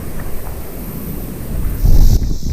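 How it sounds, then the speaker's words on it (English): Wind buffets a microphone outdoors beside a public pond, a loud, rumbling low roar with a stronger gust near the end. "It's actually pretty breezy out here."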